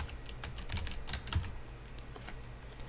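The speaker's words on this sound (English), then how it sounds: "So if you go through and type in Arkanoid," Quick, light keystrokes on a computer keyboard in short irregular clusters of taps, close but quiet, with no talking.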